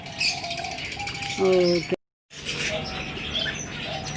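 Pet pigeons at a home loft give soft calls and chirps with brief wing flutters, heard beneath a voice, and the sound cuts out for a moment midway.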